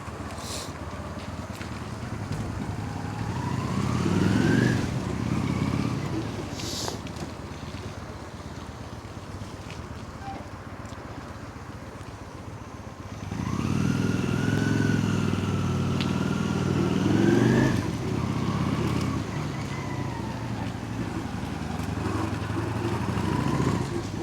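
A Honda Shadow Slasher 400 motorcycle with about 25,000 km on it rides under heavy wind noise. The engine's pitch climbs and drops through smooth gear changes in two stretches of acceleration.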